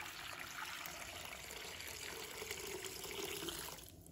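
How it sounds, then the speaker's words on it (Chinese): Water pours steadily into a clay pot holding white fungus, a soft continuous splashing and hissing that stays even, then eases off at the end. "加入多一点的清水，"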